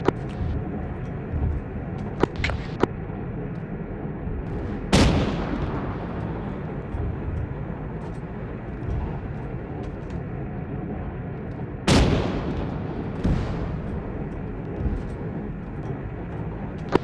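Distant tank cannon and gunfire in an Arma 3 battle during a sandstorm, two heavy booming blasts and a few sharp cracks over a constant low rumbling roar.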